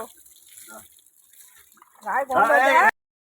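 A dog being bathed on a rooftop, water splashing and pouring in a loud burst near the end after quieter moments with faint voices in the background.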